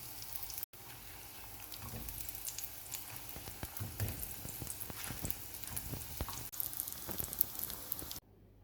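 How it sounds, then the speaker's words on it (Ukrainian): Breaded lentil nuggets fry in a heated pan with a soft, even crackling sizzle that holds steady, quiet and close, then cuts off abruptly near the end. "Викладаємо на розігріту пательню і обсмажуємо до золотистої скринки."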